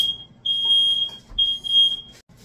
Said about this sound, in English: We just put new batteries in the smoke alarm.